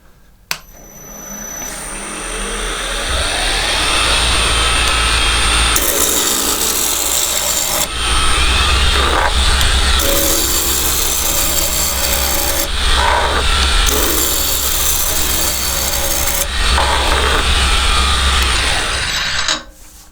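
Wood spinning on a lathe and being turned into a round cylinder, a steady loud scraping, rasping cut that keeps going throughout, rising into brighter, harsher bursts as the tool bites, with short softer gaps between passes.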